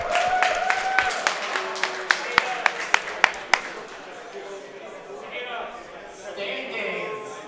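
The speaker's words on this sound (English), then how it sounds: "big round of applause for our judges." Scattered claps and a short burst of applause from a small crowd at a tournament, fading after a few seconds into murmuring voices and room noise.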